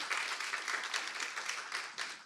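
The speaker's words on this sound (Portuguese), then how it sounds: "Palmas." Audience applause at a talk event on technology and the future of the Web, a dense, steady wash of many hands clapping from start to end with no voices over it.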